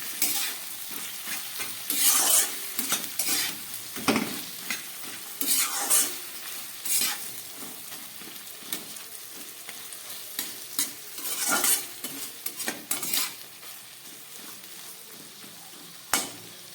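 Soybean chunks, marinated with cumin, coriander, chilli and raw oil, stir-fried with ginger-garlic in a pan, giving a steady sizzle with repeated scraping stirs through the whole stretch and no voices.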